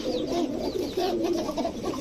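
A male Naptha pigeon coos steadily close by, a low burbling rolling call repeated in a continuous run, with faint background chatter of other birds.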